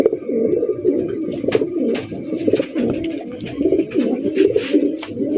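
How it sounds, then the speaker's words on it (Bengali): A pair of Bangladeshi Golla pigeons coo nearby in steady, overlapping throaty bursts, with light background clatter and faint chirping around them. "একদম দেখার মতো চমৎকার একজন আমাদের দেশীয় একজোড়া গোল্লা কবুতর"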